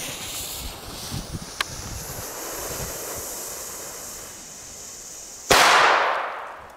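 A Titanschlag Blau TBD3-B firecracker goes off outdoors with a single sharp, loud bang near the end, followed by a brief hissing decay, after several seconds of steady wind and surf-like background noise.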